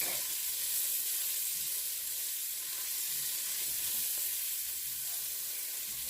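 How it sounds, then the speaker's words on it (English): Roughly chopped sweet onion sautéing in a pan, a steady, even hiss of frying that stays constant and moderately quiet with no talk. "I'm going to go ahead and saute that onion up real quick."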